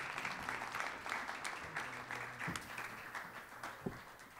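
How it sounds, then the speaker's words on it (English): Audience applause for a panel at a college talk, a fairly quiet, steady patter of clapping from a modest room, with a few louder individual claps standing out. "A big round of applause for our whole panel."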